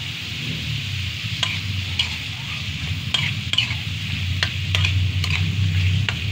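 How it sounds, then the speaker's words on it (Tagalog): Sautéed chayote is stirred in a frying pan, with a spatula scraping and tapping in uneven strokes over a constant loud sizzle, heard up close and without voices. "Halu-halian lang natin siya para kumalat yung kanyang lasa."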